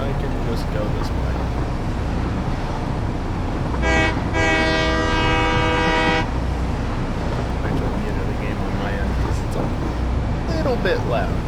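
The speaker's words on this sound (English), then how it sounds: "thanks to the rails being electrically powered and the train being electrically powered, I can just go this way" Electric train passing in the video game Satisfactory, heard as a loud tonal horn-like whine lasting a couple of seconds over steady game noise and background hum.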